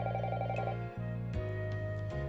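Telephone ringing in a visual novel game: a steady electronic ring tone with repeated bursts and a short gap, loud and close, with background music underneath and no talk.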